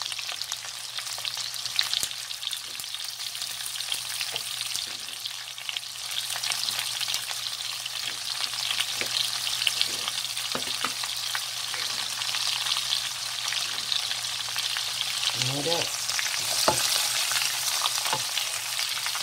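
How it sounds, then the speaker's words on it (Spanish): Vienna sausages and onion frying in a pan for a Korean-style dish, a continuous crackling sizzle throughout with occasional stirring scrapes and utensil taps, no voices. "Ahora vamos a agregar la cebolla también."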